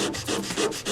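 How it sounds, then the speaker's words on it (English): Rhythmic rasping strokes of sandpaper across an old, dry wooden bookcase, close up, several back-and-forth passes in quick succession. "just the way this is sanding off, and when I come in contact with the wood, it's the dust it's making"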